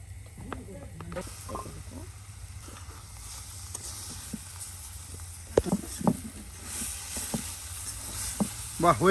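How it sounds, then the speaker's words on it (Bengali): An egg frying in oil in a pan, Bengali village-style cooking with potato, gives off a soft, uneven sizzle mixed with scattered clicks and utensil clatter over a low steady hum. "এই দেখুন একদম কত সুন্দর ডিম ভাজি করে নিল চটপট"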